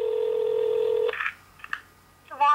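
A telephone call begins with a steady dial tone, then a few short touch-tone dialing beeps separated by near silence, ending with a louder burst of tones.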